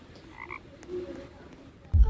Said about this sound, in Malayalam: അയ്യോ തവള